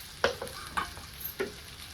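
A spoon stirs okra and potato with red chilli powder in a hot pan, making four distinct scraping strokes over a soft, constant sizzle.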